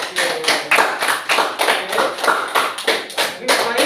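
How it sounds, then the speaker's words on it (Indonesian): A sixth-grade class claps in unison, a steady rhythmic run of loud, evenly spaced group claps close by, about three per second. "Iya, tepuk tangannya."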